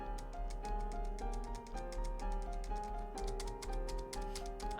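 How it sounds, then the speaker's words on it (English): Rapid spacebar clicks from a computer keyboard pick out piano notes in Detroit: Become Human, the tapping steady and close under sustained in-game piano tones, with no talking. "Can you hear my spacebar clicking as I make the piano play?"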